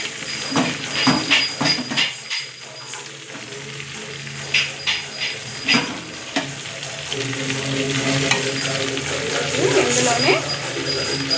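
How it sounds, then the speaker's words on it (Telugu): Okra dropped into a pan of lightly fried onions for bendakaya curry, a steady sizzle rising after a few stirring clatters, close, under someone talking. "బెండకాయలు వేసేస్తున్నాను."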